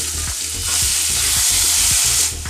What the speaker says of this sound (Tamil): இப்போ இந்த வெங்காயம், தக்காளி இதை சேர்த்து வதக்கிக்கலாம்